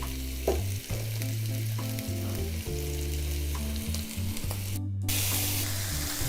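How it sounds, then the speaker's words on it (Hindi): Seekh kebabs sizzle and fry steadily in a frying pan, a loud, close, continuous crackle with no talking, accompanied by background music. "सारे जो कबाब आपने फ्राई कर लेने हैं"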